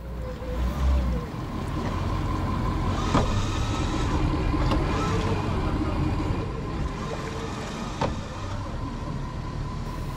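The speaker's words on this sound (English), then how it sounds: "Right now we're pulling out of the gas dock." Bennington QX28 pontoon boat with a single Yamaha 425 XTO outboard pulling away from a gas dock, low engine rumble steady and moderately quiet beneath water and wind noise.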